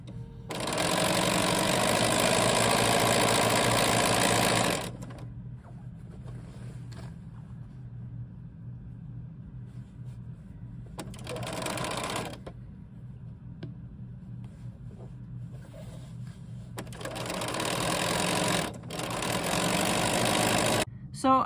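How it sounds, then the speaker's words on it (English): A quilting sewing machine stitching fabric with the dual feed off, loud close whirring bursts of steady motor hum, stopping and starting in several runs with quieter pauses in between. "But I did just sew all the way down and all the way off the piece of fabric."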